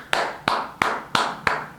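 Five sharp hand claps in a slow, even rhythm, close and fairly loud, each a crisp broadband snap with a short tail, heard alone with no talk.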